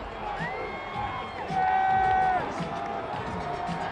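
Thousands of fans lining a downtown Los Angeles parade route for a Dodgers championship celebration, a distant roar of cheering and shouted chanting, with a whistle-like tone and a voice speaking over it.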